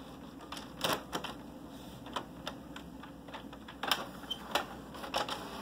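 An apartment inkjet printer running a print job with a rear paper feed, giving a busy run of clicks, ticks and mechanical clatter in irregular bursts, fairly close and moderately loud with no talk.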